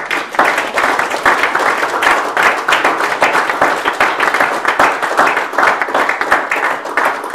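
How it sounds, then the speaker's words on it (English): An audience claps for the speakers at the close of a lecture on an Omani oasis settlement, a loud, dense round of applause with rapid overlapping claps that holds steady throughout. "So let's give a final round of applause to all of our speakers."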